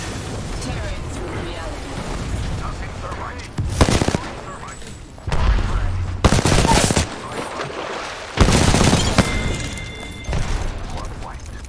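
Bursts of rapid sniper and automatic gunfire in a shooting video game, several loud volleys separated by brief pauses, with a voice talking in between.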